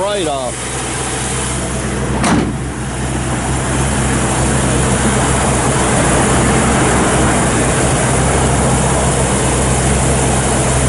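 A 1955 Chevrolet Nomad Bel Air runs with a steady, loud engine drone throughout, with a brief sharper burst near the start.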